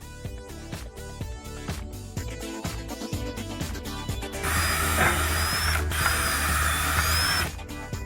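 Power drill boring pilot holes in wooden deck battens laid in a staggered pattern, a close series of short whirring bursts followed by a long, loud sustained grind with a rising pitch.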